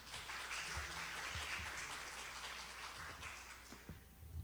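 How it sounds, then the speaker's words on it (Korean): A symposium audience applauds after a COVID-19 response presentation in Sejong City, with dense, steady clapping that fills the room for several seconds before tapering slightly at the end. "발표해 주신 배희순 부단장님께 다시 한번 큰 박수 부탁드립니다"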